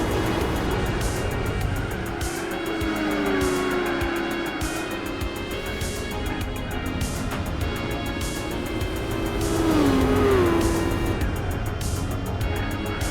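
A Nissan Skyline ER34 spins out in Gran Turismo 4 over a steady, loud engine drone, with two drawn-out squeals of tyres sliding, the second longer and stronger, and no talk.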